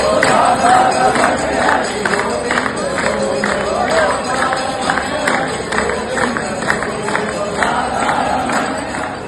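Busy crowd murmur fills the Govind Dev Ji temple on Janmashtami, a steady wash of many voices with scattered clapping-like taps, close and continuous throughout.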